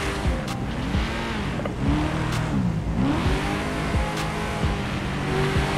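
A loud van engine in GTA5 roleplay revs and accelerates up and down repeatedly, with brief tire squeals, close and continuous without talk.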